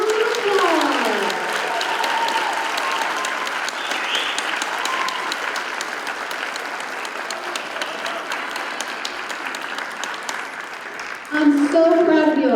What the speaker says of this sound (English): Let's give these wonderful performers one more big round of applause.